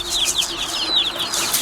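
Baby chicks being fed medicated chicken feed from a gravity feeder give off a busy, close chorus of high, rapid cheeps and peeps, overlapping continuously without pause.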